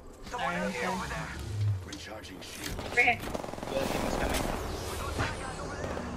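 Bursts of gunfire from Apex Legends crackle in the battle royale match under steady talk from players. The shots sound moderately close and a sharper burst stands out near the middle.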